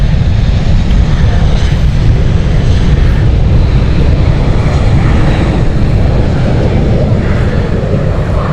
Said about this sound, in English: You can see the difference between the older Embraer engines and the newer ones.